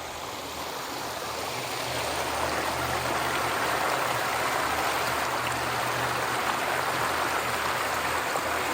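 Steady rushing water from Pine Creek fills the whole clip, a constant broadband wash with no voices.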